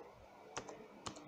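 Two crisp keystrokes on a computer keyboard as a command is entered in a network device configuration, quiet and close, with a faint hum between the clicks.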